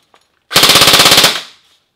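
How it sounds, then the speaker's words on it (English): An airsoft rifle with no magazine fires a rapid, loud burst of about a dozen evenly spaced shots lasting under a second, close by and with no talking. "Without a magazine, it'll continue firing like it's full magazine, because there's nothing to activate it."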